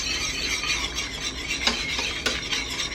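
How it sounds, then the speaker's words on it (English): Gravy for Salisbury steak being stirred in a pan, a steady scraping swirl with faint sizzling and a couple of sharper utensil clicks against the pan. "Stir it up."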